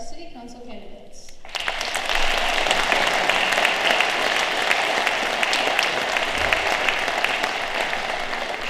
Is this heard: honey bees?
no